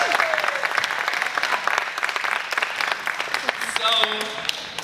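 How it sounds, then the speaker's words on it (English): Audience applause for a participant at a voter registration training session, a lively patter of clapping from a modest group with a whistle-like tone and voices mixed in toward the end. "Round of applause"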